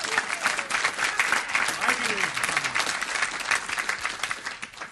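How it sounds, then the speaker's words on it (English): Applause from the audience at a city council meeting, steady dense clapping throughout, fairly loud and close, with a voice faintly under it. "Let's give him another round of applause."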